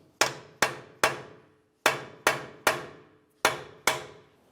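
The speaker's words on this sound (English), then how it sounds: "Use a hammer and punch to break the axle free from the wheel bearing." Hammer and punch striking a CV axle to break it free from the wheel bearing on a 2005-2010 Dodge Dakota, eight sharp ringing metallic blows in uneven groups, close and loud with brief silence between hits.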